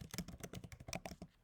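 Fingers typing on a computer keyboard, likely a Mac laptop, in a quick run of crisp, closely spaced keystrokes with a few small pauses, close and clear with no talking.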